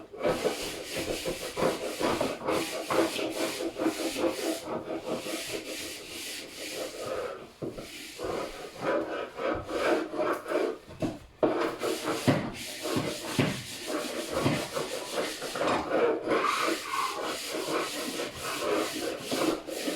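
A floor inside a house is scrubbed hard, with a continuous rough, hissing rubbing of uneven strokes that keeps going throughout at close range.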